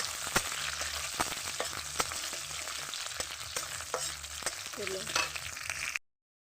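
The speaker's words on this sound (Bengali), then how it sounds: "সাদা জিরে দিলাম তো দেব কাঁচা লঙ্কা তেজপাতা শুকনো লঙ্কা ভালো করে এগুলো ভেজে নেব" Cumin seeds, green chillies, dried chillies and bay leaves crackle and sizzle in hot oil, with sharp intermittent pops and the scrape of stirring over a steady fry, close and quiet, ending abruptly.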